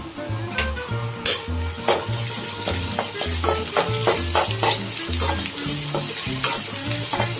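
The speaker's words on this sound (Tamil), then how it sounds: "இந்த வெங்காயம் கொஞ்சம் நல்லா வதங்கிட்டோம் பாருங்க" Onions sauté with green chillies and rock salt in a pan for a crab pepper masala, with loud, close sizzling and a rhythmic scrape and clatter of a spoon stirring against the pan.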